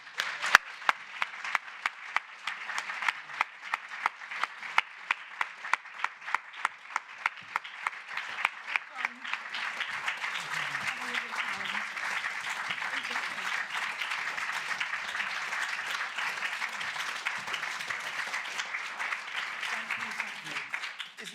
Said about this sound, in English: a huge applause, please, for my guests